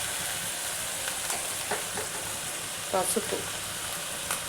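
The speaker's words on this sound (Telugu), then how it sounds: "ఉడికించిన ఆనప గింజలు వేసేసి మంచిగా ఫ్రై చేయాలి మొత్తం" Boiled bottle gourd seeds fry in a pan with a steady, close sizzle, broken by a few sharp stirring scrapes and brief clatters; a voice speaks briefly over it.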